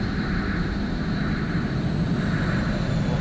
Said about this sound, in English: Why am I hearing flying saucer?